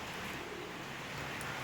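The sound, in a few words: pigeons flying in the rain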